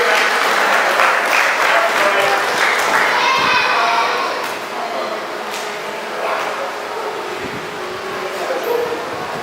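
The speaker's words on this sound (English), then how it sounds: "I want you all to give a well-deserved round of applause to Brother Ted Cromwell." Loud, sustained clapping from a large crowd fills the room, swelling at first and then settling into steady applause with a few shouts mixed in.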